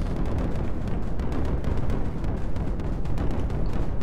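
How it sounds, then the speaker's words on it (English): Explosions in the strategy video game Creeper World 4, a continuous barrage of overlapping booms and bursts with no pauses, loud and dense throughout. "Wow, just the amount of explosions going off is very good."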